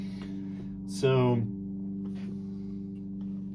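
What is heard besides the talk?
lawn mower running in the background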